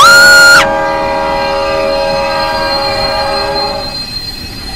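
A Shinkansen bullet train in a video game slows to a stop, a brief loud horn giving way to a steady rumble and faint brake squeal that fades out.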